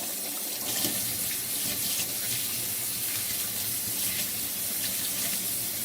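Steady running water pours through a strainer rinsing sea moss, a continuous close hiss and splash holding evenly without pause.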